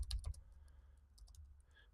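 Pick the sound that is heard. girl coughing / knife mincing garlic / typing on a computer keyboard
typing on a computer keyboard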